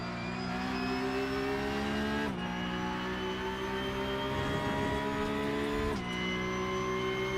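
Porsche Cup race car engine heard on board at Imola, a steady high-pitched drone held near full revs with two brief dips as gears shift, loud and continuous with no talk.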